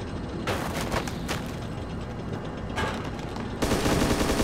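Bursts of automatic gunfire in the military shooter Arma 2 during a town assault, loud close volleys separated by short pauses, with a heavier burst at the end.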